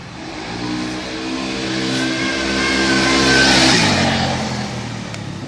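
A Piaggio Sfera 125cc four-stroke scooter revs hard during wheelies, its engine pitch climbing steadily then dropping, loud and close with no talking.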